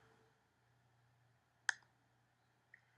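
A single sharp computer mouse click lands crisply in an otherwise quiet room, followed by a fainter second click about a second later, during Photoshop background-erasing work.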